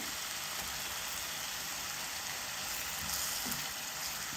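Tomato masala fries in oil with fresh cream added, for a green pea curry with cashews and almonds. A dense, steady hiss of bubbling and sizzling carries on without a break, loud and close, with no talk.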